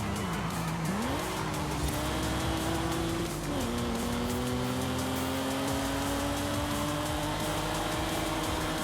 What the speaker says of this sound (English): this car does sound really nice